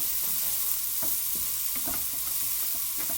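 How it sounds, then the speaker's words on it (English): Continuous hissing sizzle of vegetables frying in a hot pan for spaghetti bolognese, punctuated by several light clicks and scrapes as they're stirred. "give a few minutes to sizzle away"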